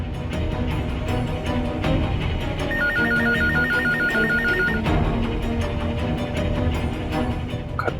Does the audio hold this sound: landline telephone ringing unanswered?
yes